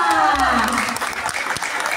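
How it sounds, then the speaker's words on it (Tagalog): Applause at a children's Christmas party for a group, a crowd clapping in a steady patter while a voice speaks over it at the start. "Palakpak!"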